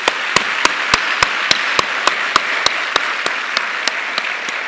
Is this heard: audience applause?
yes